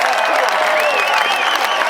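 An outdoor Christmas crowd at Pioneer Square in Portland applauds and cheers after a mass tuba concert of nearly 300 players, dense sustained clapping with shouts and whistles, loud and close, voices mixed in.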